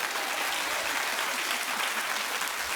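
A studio audience at a daytime talk show applauds in a steady, dense wash of clapping that holds evenly throughout without a break.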